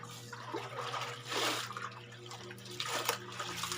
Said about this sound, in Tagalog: Tapos nun washing ko, babanlawan ko man yun.